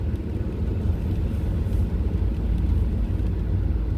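A motorcycle rides along a road beside Loch Lomond, heard as a steady, low, rumbling engine drone mixed with wind and road noise that holds constant throughout.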